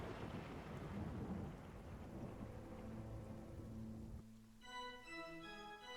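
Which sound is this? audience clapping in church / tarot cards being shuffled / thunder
thunder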